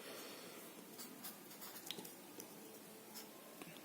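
Pen or stylus writing steadily during a C programming lesson on linked lists, producing a continuous soft scratching with small taps and strokes, close and fairly quiet against a hissy background.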